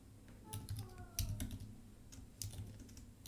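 Programming code typed on a computer keyboard, a short close burst of soft uneven keystrokes with a faint murmur of speech underneath.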